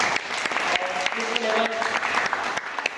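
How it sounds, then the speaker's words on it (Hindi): An audience at a business planning meeting claps loudly for achievers, a lively burst of dense applause running for a few seconds with a voice calling out over it. "प्लीज इनके लिए भी जोरदार तालियां।"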